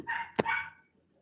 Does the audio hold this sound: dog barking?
yes